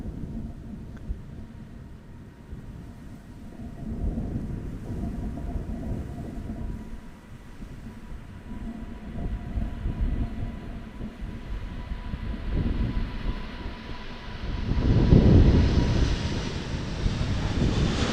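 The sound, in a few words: Emirates Airbus A380 taking off at full throttle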